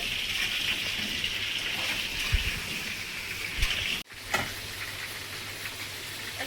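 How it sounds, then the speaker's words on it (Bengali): Potatoes frying in hot oil for a Bengali mutton curry, a steady bright sizzle that crackles like rain, with a few soft clunks and a brief cutout partway through. "আলুটা একসঙ্গে ভেজে নিচ্ছি"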